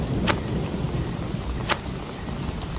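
Steady rain pours down loud and close in a cartoon night scene over paddy fields, while two sharp thunder cracks strike and a fainter third one follows near the end.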